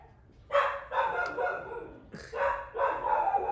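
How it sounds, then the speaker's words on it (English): A pet dog barks indoors in a series of loud, close barks and yips, several short bursts spaced irregularly over a few seconds. "I don't even know what she's barking at."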